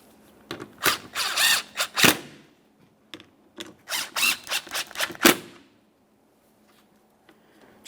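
License plate bracket bolts on a 2014-2019 Toyota Corolla are tightened into the front bumper cover in two bursts of close ratcheting clicks separated by pauses, with no talk.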